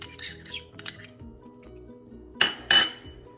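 Metal utensil clinking and scraping in a bowl while spiced masala is mixed into mashed potatoes, a few sharp clinks then two louder scraping bursts near the end.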